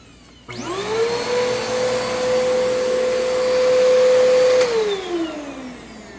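A 2009 Bissell PowerForce vacuum cleaner switches on, its motor spinning up into a loud steady whine that holds for several seconds and then winds down as it is switched off.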